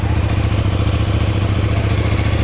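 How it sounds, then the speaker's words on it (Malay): A CFMOTO 800NK motorcycle engine starts and idles loudly and close, with a steady low rumbling throb and no voices. "kita nak hidupkan enjin sekarang"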